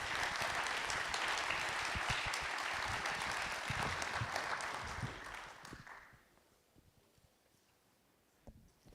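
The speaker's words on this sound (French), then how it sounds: "je pense qu'on peut vous applaudir très fort" Loud applause from an audience at a tech round table, sustained dense clapping for about six seconds before fading out, followed by a quieter room with a few scattered sounds.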